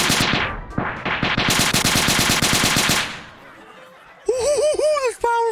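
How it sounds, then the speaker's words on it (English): Minigun from a mod in the VR game Gorn fires in long, rapid, loud bursts that spin down, followed by a voice briefly laughing and chattering. "Look at the minigun. It's so big."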